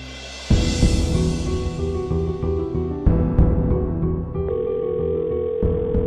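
A telephone rings on and on without being answered, a steady electronic ringing tone that holds for several seconds at moderate loudness, with no voices.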